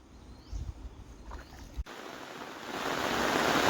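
Water flowing into a farm field, a soft irregular gurgle at first that swells into a steady, rising rushing hiss over the last seconds, fairly close.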